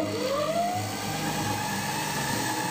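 A repaired stand mixer hums steadily at its lowest speed, a continuous motor whir with a brief rising pitch near the start and no voices.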